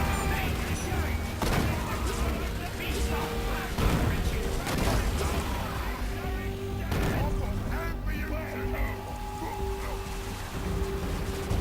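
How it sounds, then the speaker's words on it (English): Grenade blasts and gunfire in a Warhammer 40000 Dawn of War 3 battle burst out repeatedly as loud, dense booms over a continuous roar of combat. "Select my shooter boys and get some grenades in there."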